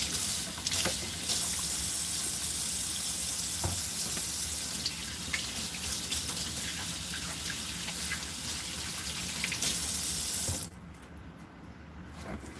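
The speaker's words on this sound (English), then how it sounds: "Let me wash my hands real quick." Hands washed under a running kitchen sink tap, a steady loud gush of water splashing for about ten seconds before the flow stops and the sound drops away, no talking.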